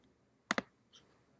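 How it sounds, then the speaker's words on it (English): Computer keyboard keys being tapped, two quick sharp clicks close together followed by a couple of fainter taps, in a quiet room. "So we'll simulate this by me just typing in votes here for people like Alice, Bob, Carol."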